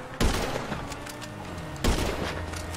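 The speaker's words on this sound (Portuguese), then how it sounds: "Odeio esse sniper, velho. Ele é muito lento pra atirar." Two loud sniper rifle shots in GTA V Online, the first near the start and the second about a second and a half later, each a sharp crack followed by a lingering rumble with game ambience between.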